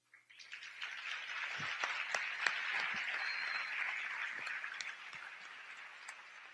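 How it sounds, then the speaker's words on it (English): Audience applause at a student and teacher education event approving a joint declaration, fairly faint, sustained clapping with a few sharper claps standing out. "Thank you very much for this applause that you have given."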